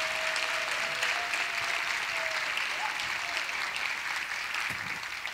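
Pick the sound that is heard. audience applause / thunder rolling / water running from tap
audience applause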